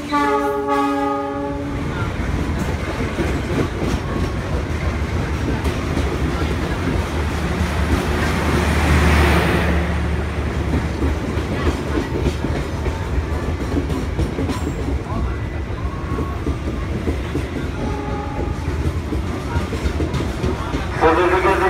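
The Kertajaya train passes through Jatinegara station, with a loud horn at the start followed by the long, continuous rumble and clatter of the carriages rolling close by. A faint voice can be heard under the noise.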